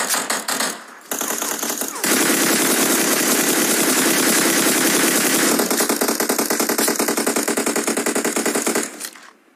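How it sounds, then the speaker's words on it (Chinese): Rapid automatic gunfire in a video game, loud bursts of sustained machine-gun rattle with a few brief pauses and a short single-shot burst at the start, ending abruptly; no speech. "我开枪！"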